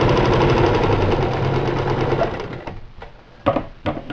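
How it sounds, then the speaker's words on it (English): A sewing machine stitches pieces of fabric together for a tissue cover, its motor whirring in a fast steady rattle close by before slowing and stopping, followed by a few sharp clicks. "I'm just going to start sewing my pieces of fabric together."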